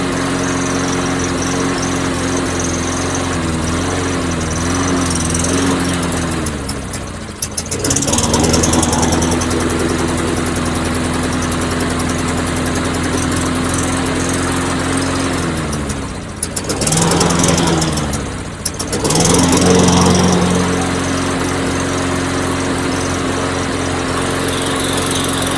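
Old lawnmower repowered with a new small gasoline engine, running steadily with a loud, close, throbbing idle that briefly dips and surges twice.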